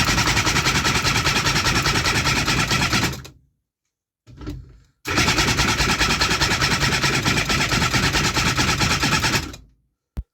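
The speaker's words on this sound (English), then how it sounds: "So let's give the engine another spin with the new carbs." A 3D printed two-cylinder two-stroke engine with new carburetors is spun over hard, making a loud, dense mechanical buzz for about three seconds. After a short pause and a brief burst, it runs again for roughly five seconds and then stops.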